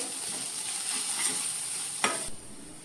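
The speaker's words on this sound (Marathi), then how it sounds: "आता मी हे सगळं घालून बरे मिक्स करून घ्या" Fenugreek greens with garlic fry in a pan as spices are stirred in, making a soft continuous sizzle with spatula scrapes and one sharper clack near the end before the frying noise drops away.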